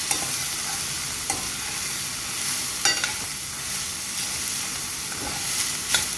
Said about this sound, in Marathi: तर हळद व्यवस्थित मिक्स करून घ्यायची आपल्याला।